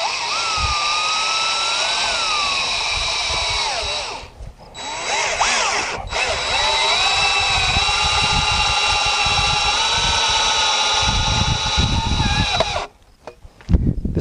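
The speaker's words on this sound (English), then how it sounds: "I like to do 2. You can also do 3, lining up the bottoms now. And I'll do the second screw in." A power drill drives a screw into the corner of a bed frame, whining steadily at close range for several seconds, pausing briefly, then spinning again until it stops with a final knock or two.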